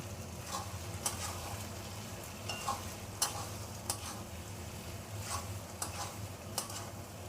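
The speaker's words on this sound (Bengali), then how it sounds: "পোস্ত আর ডাল বাটা দিয়ে মাঝের মধ্যে কিন্তু নেড়ে দেবে" Poppy seed paste and lentil paste being stirred in a frying pan, a soft steady sizzle with occasional scraping ticks of the spoon against the pan, fairly quiet and alone.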